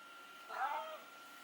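A single cat meows once, a short plaintive cry against a quiet background, fairly faint.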